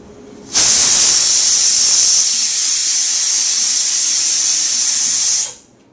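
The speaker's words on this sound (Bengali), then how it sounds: "মাংস প্রেসার কুকারে সিদ্ধ হতে 8টা সিটি দিলেই হয়" A pressure cooker whistles loudly while boiling meat, one long steady steam hiss that starts abruptly, holds for about five seconds and then cuts off, with no talking.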